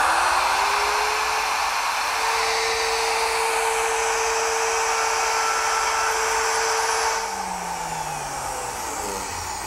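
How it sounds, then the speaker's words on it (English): A wood router cuts a patch from scrap wood in a steady, loud, close whine that holds for several seconds, then drops in pitch and eases slightly as the cut ends. "To cut the patch, I'm going to use the same router, but I'm going to remove this outer collar."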